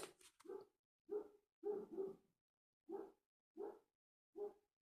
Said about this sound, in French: Concerto pour un gros chien.